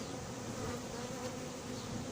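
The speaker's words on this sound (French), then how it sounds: "vraiment un essaim" A swarm of honeybees being collected from a swarming cluster gives off a dense, steady buzzing drone that is close and continuous, with no voices.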